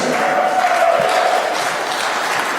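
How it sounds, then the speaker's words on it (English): A church congregation claps steadily, a dense wash of hand claps with faint cheering mixed in, filling the whole moment without pause. "Let's give them a big hand. Round of applause."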